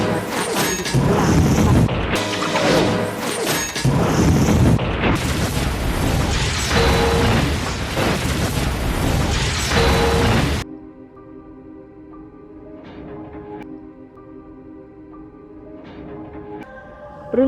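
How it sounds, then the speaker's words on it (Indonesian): A large explosion as a ghost ship sinks: about ten seconds of loud, dense booming and crashing rumble that cuts off abruptly, followed by quieter tonal music with soft hits. "Seketika ledakan besar terjadi membuat kapal itu tenggelam."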